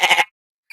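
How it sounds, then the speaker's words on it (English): A single short goat bleat used as a farm-animal sound cue on a sports radio show, loud and close, lasting about a quarter second and followed by silence. "When you hear the farm animal goat sounder,"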